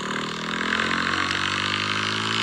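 A motorcycle engine in a video game drones steadily at a high pitch, a constant buzzing rev that holds even for the whole stretch with no talking.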